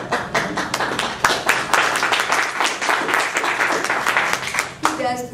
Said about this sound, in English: He does deserve applause